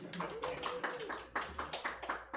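Soft, fairly faint clapping from a few people in an improv comedy audience, uneven and brief, with a muffled voice mixed in.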